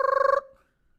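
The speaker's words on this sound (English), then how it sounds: "Phone ring." A telephone rings once in a short electronic burst, a warbling trill that stops abruptly and fades into silence, close and fairly loud.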